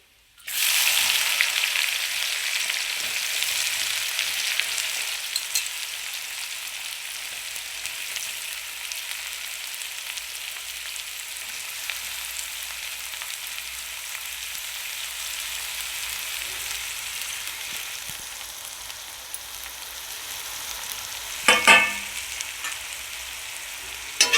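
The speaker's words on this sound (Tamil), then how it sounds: "வெங்காயம் வந்து நல்லா வதங்கணும்." Onions sizzle steadily in a hot pan for green chicken gravy, a loud continuous frying hiss that holds for the whole stretch, with a brief stirring clatter near the end.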